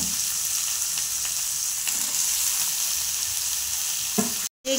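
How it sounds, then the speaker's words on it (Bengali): Vegetables sizzle and spit in hot ghee in a pan for sabudana pulao, a steady crackling fry with occasional stirring scrapes, close and continuous until a brief cut near the end. "এই যে এবার এই সবজিগুলো ভাজা করে নেব"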